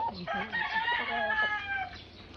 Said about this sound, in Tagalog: ang dami kong alagang manok